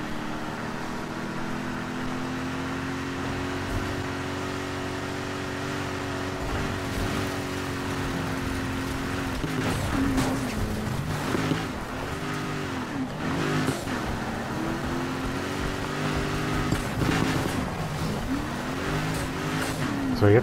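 A car engine drives steadily in the racing game Need for Speed Heat, its harmonic drone rising and falling with gear shifts and revs, loud and continuous with no talk over it.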